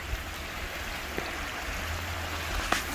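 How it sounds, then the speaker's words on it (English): A mountain creek on a wooded off-grid homestead property flows in a steady, broadband wash of water, continuous and fairly close with no talk over it. "You can hear the creek."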